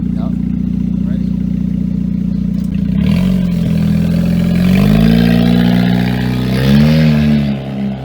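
An off-road race car, built from a Hyundai Elantra, idles with a low rumble, then revs and rises in pitch before dropping back, loud and close, while people talk over it.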